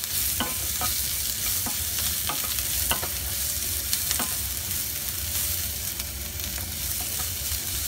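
Carrots and onions sizzle and hiss steadily as they are stir-fried in a wok, with a spatula scraping and clacking against the metal at irregular intervals.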